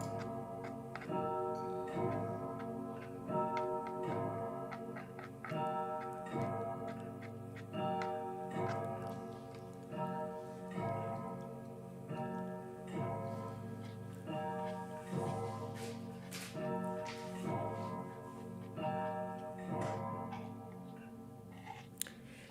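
A clock ticks in a steady, even rhythm that repeats throughout at moderate loudness, with no talk over it.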